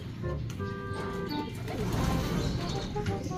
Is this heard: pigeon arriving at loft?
yes